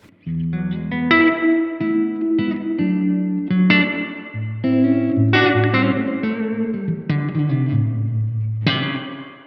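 Electric guitar through a Blackstar AMPED 1 amp with spring reverb, a steady phrase of strummed chords and picked notes lasting several seconds, each attack blooming into a splashy, ringing tail, close and clear with no talking.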